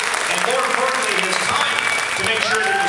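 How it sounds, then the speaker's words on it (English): Audience applause at a charity auction for a donated sailing trip in the Gulf Islands, steady and fairly loud throughout, with voices and cheering mixed in over the clapping. "Give the captain a nice round of applause"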